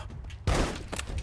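A shotgun blast goes off at close range in the VR zombie game The Walking Dead: Saints & Sinners. It is a single loud, sudden boom that cuts through quieter background noise, followed by a short ringing tail.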